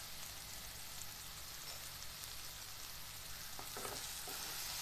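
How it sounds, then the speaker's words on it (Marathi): Ground spices—turmeric, coriander-cumin powder, garam masala and red chilli powder—fry in a pan over low heat with a steady, soft crackling sizzle, joined near the end by a few light stirring scrapes; no one speaks. "कमी आचेवरच आपल्याला पटकन हे परतून घ्यायचे मसाले जळू न देता"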